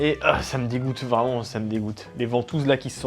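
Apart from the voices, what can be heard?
No everyday noises stand out.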